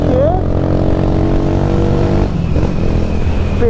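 A Honda CG 150 Sport motorcycle engine drones loud and close while riding, its pitch sweeping up briefly at the start, then settling into a steady, rough hum with wind noise.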